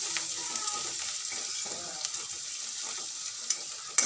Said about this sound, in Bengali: রসুনটা একটু এটা ভেজে নিই আমি এতে দিয়ে